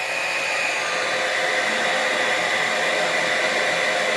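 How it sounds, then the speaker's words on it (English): Travel-size blow dryer running on low fan and high heat from a Bluetti EB70S portable power station, a steady close whooshing hiss that holds evenly throughout with no voices. "like travel size blow dryer"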